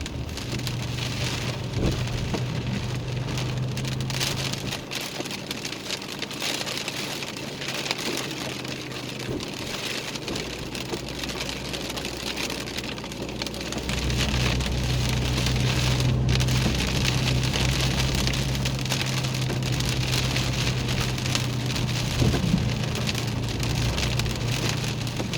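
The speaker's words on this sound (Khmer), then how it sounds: "មើលអត់ឃើញមេឃទេឃើញតែទឹកភ្លៀង" Heavy rain pours steadily during flooding in Karori, Wellington, a dense continuous hiss of water on surfaces that swells louder partway through, with a low rumble underneath and no voices.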